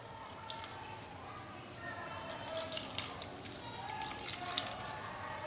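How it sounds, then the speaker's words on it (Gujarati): Water is squeezed by hand from grated mango wrapped in a cloth for pickle-making, giving a faint, steady trickle with scattered drips, close by and without voices. "છીણમાંથી આપણે બધું જ પાણી નીચોવી લેવાનું છે અને છીણને એકદમ કોરું કરી લેવાનું છે"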